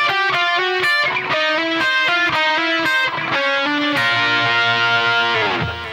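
Distorted electric guitar plays a phrase starting from D, a choppy run of repeated chord stabs stepping down, ending on a long sustained ringing chord that cuts off; loud, close, no talk.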